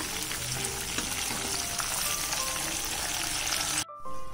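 Prawns fry on high flame in a pan, a loud, steady, crackling sizzle that fills almost the whole stretch, then drops off sharply near the end and briefly resumes. No one speaks.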